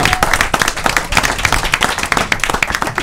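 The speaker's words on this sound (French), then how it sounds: "Un tonnerre d'applaudissements pour Fergus." Enthusiastic audience applause at a comedy festival, dense and steady rapid clapping from a crowd filling the whole stretch at a loud level.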